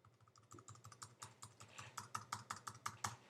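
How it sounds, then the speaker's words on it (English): Fingers typing on a computer keyboard, a quick run of light key clicks that grows steadier and a little louder toward the end, heard up close with no talking. "You can type whatever you need to here."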